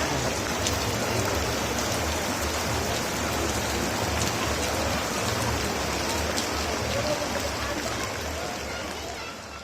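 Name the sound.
heavy rain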